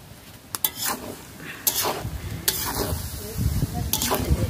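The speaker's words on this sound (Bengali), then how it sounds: "উনুনের আঁচটা কমিয়ে এটাকে এইভাবে নাড়তে নাড়তে রান্না করতে" Rice chorchori made with broken khud rice being stirred in a pan over a lowered flame, a utensil scraping and clinking in repeated strokes over a steady close sizzle.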